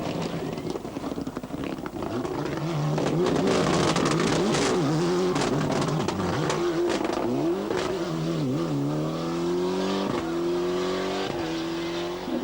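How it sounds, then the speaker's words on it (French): Rally car arriving too fast at a stage finish and braking on cobblestones at the 1996 Omloop van Vlaanderen, its engine loud and close with rising and falling revs under steady wind noise. "Nous sommes à l'arrivée de la deuxième spéciale et de Mévius arrive un peu trop vite"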